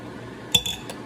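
Glass and dishes handled in a home kitchen while cooking, two or three sharp clinks of glassware in quick succession, close and fairly loud over a quiet background.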